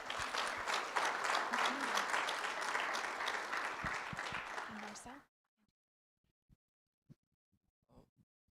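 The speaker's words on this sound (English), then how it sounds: "Let's give that a round of applause." Audience applauding at a guide dog graduation ceremony, dense sustained clapping from a crowd for about five seconds that cuts off abruptly, followed by near silence with a few faint bumps and breaths.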